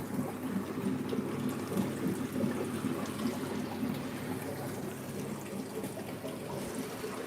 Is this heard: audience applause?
no